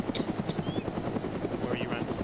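A video game helicopter in flight, a rapid rhythmic rotor thudding that stays steady and close throughout, with faint voices mixed underneath.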